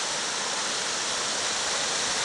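Water rushes down lovely stone rapids below a waterfall in a cold stream, a steady, full, close roar of broadband splashing that holds constant throughout with no voices.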